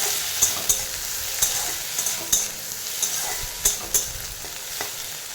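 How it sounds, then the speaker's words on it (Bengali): Greens frying in a pan with onion, a steady soft sizzle broken by sharp scraping clicks of a utensil stirring every half second or so, close and alone with no talk. "তো চলো এখন আমি এটা ভাজা করি।"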